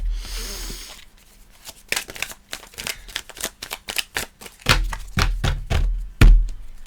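A deck of tarot-style cards is shuffled close by in quick bursts of crisp riffles and taps, with a short rustle at the start and brief handling pauses between bursts.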